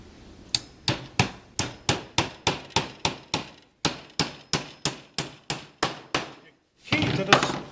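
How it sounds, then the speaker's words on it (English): Hammer blows drive nails into a wooden beehive body: about seventeen sharp, evenly spaced strikes ring out close and loud, a brief pause, then a final cluster of heavier knocks. "Key to this nailing these pieces in here is when you hold that nail, make sure it's straight up and down"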